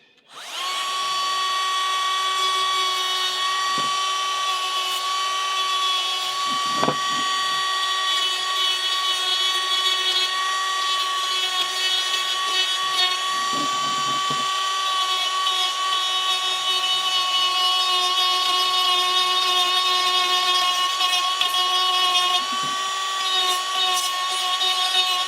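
A Bosch GRO 12V-35 cordless rotary tool fitted with a burr runs continuously while power carving, giving a loud, steady high-pitched whine with occasional scraping as it bites into the material, close up and with no talking.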